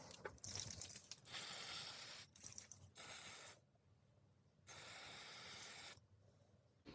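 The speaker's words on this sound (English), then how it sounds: "Just going to give this a clean with some isopropyl alcohol." Isopropyl alcohol sprayed onto a washing machine rotor position sensor circuit board in a series of short hissing aerosol bursts, loud and close, with brief quiet gaps between them and no voices.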